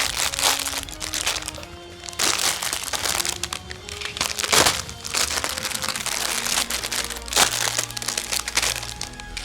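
Single-use plastic packaging around the parts of an Ultimagear Gold Sarcophagus gaming model kit crackles and crinkles up close as it is pulled open, with sharp irregular snaps and rustling bursts throughout.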